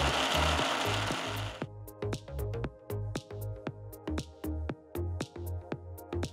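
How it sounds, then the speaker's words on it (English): A mixer grinder grinding cooled spinach leaves into a fine puree in a mixer jar: a loud motor whir, then a series of rapid pulsed bursts with brief gaps and clattering, close and alone. "transfer the leaves to a mixer jar and grind it to a nice fine puree"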